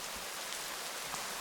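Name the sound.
rain falling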